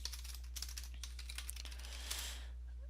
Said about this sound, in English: into Google you want to go ahead and just type in DirectX installer